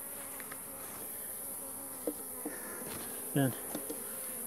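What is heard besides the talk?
honeybees buzzing in a hive, queen walking inside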